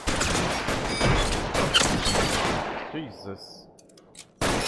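Rapid bursts of gunfire in the video game L.A. Noire, loud and dense, with a player's voice over the shooting before it thins out and a sharp shot cuts back in at the end.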